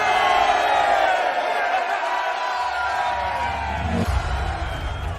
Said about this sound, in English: the crowd threw up such a cheer that it knocked dust loose from the rafters